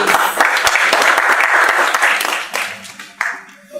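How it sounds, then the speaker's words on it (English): An audience at a career orientation event for kids breaks into loud, dense applause that tapers off after a few seconds. "Can we clap for him, please?"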